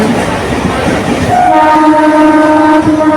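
A train heading toward Howrah, Kolkata, after passing Kharagpur, rumbles loudly and close, its rolling clatter joined midway by a sustained horn blast that holds to the end.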